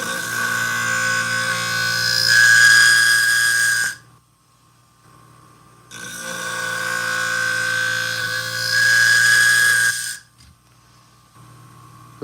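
A Gingher sewing shear blade grinds against a powered sharpener in two loud, steady bursts of harsh whining hiss, each about four seconds long, with a quiet gap of near-silence between them.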